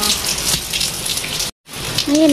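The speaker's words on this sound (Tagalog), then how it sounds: "malakas yung tulo ng tubig." Heavy runoff pours and drips from a house roof after rain, a steady broadband splashing that fills the clip, briefly cut off near the middle, with a faint tonal sound rising near the end.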